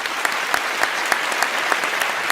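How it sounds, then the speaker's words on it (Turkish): A studio audience at a Turkish word game show gives loud, steady applause for two contestants, with a fairly regular pulse of sharper claps standing out from the dense clapping. "İkinize de kocaman alkışlar lütfen."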